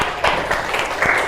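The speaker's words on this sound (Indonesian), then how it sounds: "Tepuk tangan dulu." Schoolchildren in a classroom clap their hands together at the teacher's prompt, a short burst of quick, uneven claps from a small group, close by.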